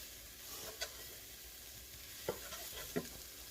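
Meatball sauce being stirred in a pan over low heat, a faint steady sizzle with three brief scraping taps of a spoon, quiet and close, no talking.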